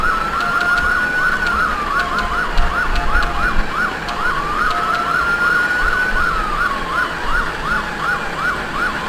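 A police car siren in the video game GTA V wails and yelps in repeating cycles, loud and close over a low engine rumble.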